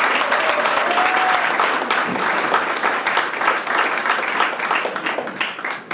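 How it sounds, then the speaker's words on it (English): Sustained, loud applause from a graduation audience fills the hall, dense clapping holding steady throughout with faint voices mixed in. "Could you give my graduates a rousing round of applause?"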